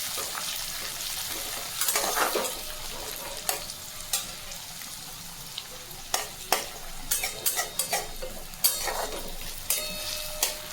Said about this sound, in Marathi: त्याला चांगलं फ्राय करून घेऊया आपण